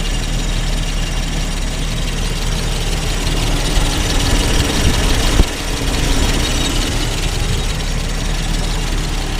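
A Mercedes engine with a failed DAS system idles on six cylinders, a loud, steady low rumble with slight vibration and one brief dip midway, with no talk over it.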